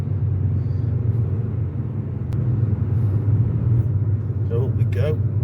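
Car engine accelerating uphill on an Albanian road, a loud, steady low rumble from inside the vehicle throughout, with a brief sharp click midway and people talking near the end.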